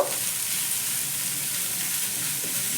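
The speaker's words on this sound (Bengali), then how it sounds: "এবার পেঁয়াজ আর লঙ্কাটাকে হালকা একটু নাড়াচাড়া করে ভেজে নেব।" Chopped onion and green chillies frying in oil, a dense, even, bright sizzle held steady throughout, close up with no voices over it.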